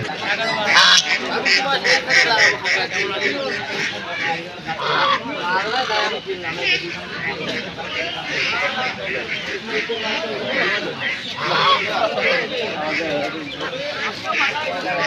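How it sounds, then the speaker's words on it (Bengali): Young goslings honk and peep in a noisy crowd, mixed with other poultry calls and people talking throughout a busy poultry market. "দেখো বন্ধুরা, রাজহাঁসের ছানা"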